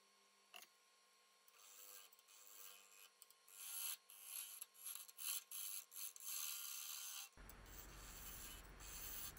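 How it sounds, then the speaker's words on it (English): A bowl gouge cuts into a spinning wooden bowl on a lathe, producing rasping, scraping bursts that pulse in uneven strokes before settling into a steadier rough hiss. "Using the bowl gouge to take some off of the top"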